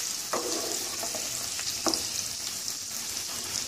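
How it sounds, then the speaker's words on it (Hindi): Colocasia leaves fry lightly in a pan for an arbi leaf sabzi, giving a steady soft sizzle with a few stirring scrapes throughout, close and moderately quiet, with no talking. "बिल्कुल हल्का सा हमें इसे फ्राई करना है क्योंकि हम इसको पकाने वाले हैं बाद में।"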